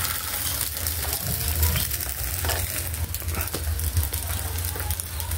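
Eggs fry in hot oil in a pan with a loud, continuous crackling sizzle, full of spitting pops and occasional utensil scrapes.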